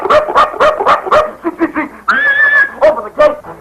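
A performer imitates a hog, a dog and a farmer in quick succession, with rapid yapping barks, grunting squeals and a drawn-out call, all loud and close.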